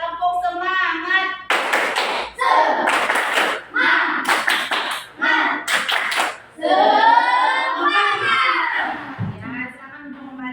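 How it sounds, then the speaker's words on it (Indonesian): A classroom of pupils performs a rhythmic group clap cheer during an elementary fractions lesson, with several loud bursts of clapping in a steady pattern alternating with children's voices chanting together, close and lively. "Kita tepuk semangat dulu."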